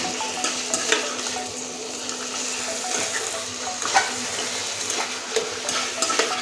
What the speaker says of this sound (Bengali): এইভাবে আমি কষতে থাকবো